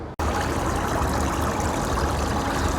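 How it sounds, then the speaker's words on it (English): Bore water spraying into the aeration tank of a small home iron removal plant, a dense, loud, continuous splashing rush that starts abruptly after a brief silence and holds steady up close. "this tank the water is being sprayed"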